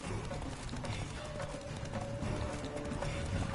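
Roach, a horse in The Witcher 3, gallops along steadily with a continuous rhythmic clatter of hooves set against a busy game background, while a voice talks over it.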